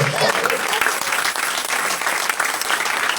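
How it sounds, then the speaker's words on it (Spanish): A church congregation applauds in a continuous wash of clapping during a sermon, with voices faintly mixed in. "¿Cuántos le dan un aplauso al Espíritu Santo?"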